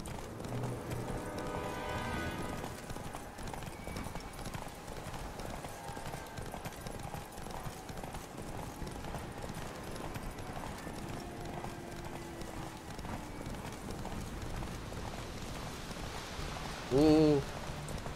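Roach, a horse in the video game The Witcher 3, galloping with steady muffled hoofbeats through rain, a constant patter under the gait, with a brief louder call near the end.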